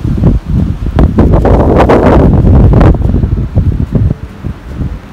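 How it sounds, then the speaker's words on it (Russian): Strong gusts batter the microphone at a spring fishing spot, with heavy buffeting rumble and whooshing bursts that rise and fall in uneven waves, loud and close, with no talk. "Смотрите, какой ветер. Послушайте просто."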